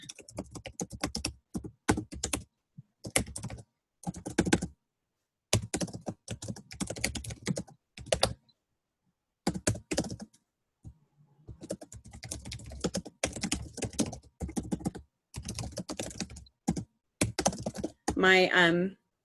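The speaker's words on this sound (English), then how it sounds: "We're going to type 3 things that you're grateful for." Someone types on a computer keyboard in bursts of rapid key clicks separated by short pauses, close and clear, with no one talking over it.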